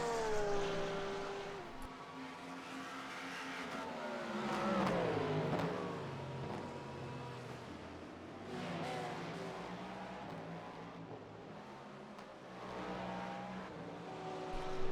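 Race car engine in an IMSA racing video game, revving and shifting through gears with rising and falling pitch, fairly quiet and continuous, with other GT3 cars nearby on track.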